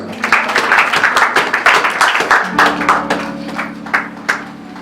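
A church congregation at a praise and worship service claps in quick rhythmic bursts. The loud claps come with a sustained hum of voices, and a steady tone underneath is probably from an instrument or the sound system.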